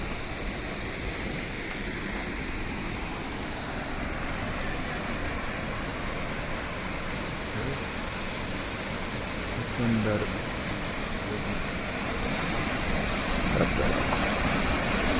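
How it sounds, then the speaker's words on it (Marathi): A steady, dense rush of a waterfall on the Trail of Cedars in Glacier National Park, Montana, fills the whole clip, loud and close, with a voice speaking briefly over it near the end. "कॅडर मधला सुंदर धबधबा"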